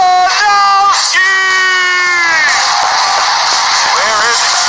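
Live studio crowd at a movie trivia Schmoedown championship cheering and yelling as contestant Mike Kalinowski enters, loud sustained whoops and screams filling the room with a constant roar.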